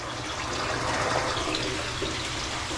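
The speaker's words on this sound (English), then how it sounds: "This runs in and runs out, and I'm picking up the water running out from the bottom" Water running out from the bottom of a small aquarium tank's flow-through filtration, a steady close splashing trickle with no pauses.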